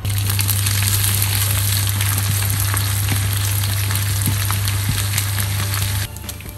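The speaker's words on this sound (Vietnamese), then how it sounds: "Bây giờ thì mình đi chiên cá cơm" Anchovies frying in hot oil give a steady, loud sizzle for about six seconds over a constant low hum, easing off slightly at the end.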